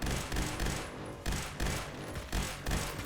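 Three rapid bursts from the G11K2 rifle in Phantom Forces, each a loud, tight cluster of shots followed by a brief lull, evenly spaced and close up with no talk over them.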